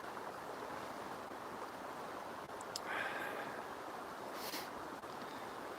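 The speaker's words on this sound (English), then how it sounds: "Got the river behind me here" A river at Keystone, Colorado rushes steadily as a broad, even wash of flowing water close by, with light wind buffeting and no talking.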